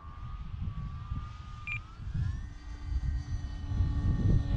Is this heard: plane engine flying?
yes